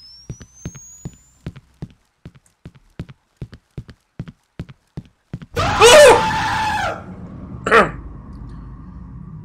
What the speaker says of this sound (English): It's with all the screaming.